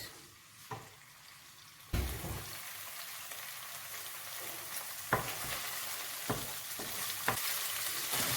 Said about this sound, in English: Right now I add the garlic, green pepper, and ginger. Let it fry a bit.